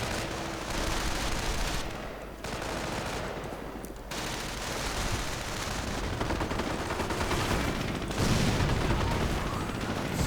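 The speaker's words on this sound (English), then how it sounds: "Grenades going off." Dense, continuous gunfire and grenade blasts from a video game battle with a Sherman tank nearby, a steady loud wall of shots and bursts that swells near the end.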